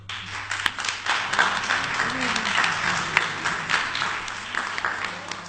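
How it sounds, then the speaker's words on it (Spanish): Applause from a film-screening audience, steady and moderately loud, with a voice speaking over it throughout. "le pido un aplauso"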